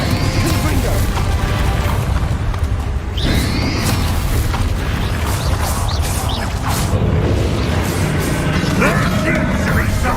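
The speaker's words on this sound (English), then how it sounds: "Bombarda! Confringo!" Dense, loud booms and crashing impacts from Bombarda and Confringo explosion spells during Hogwarts Legacy combat, with whooshes and mechanical clatter layered under shouting voices.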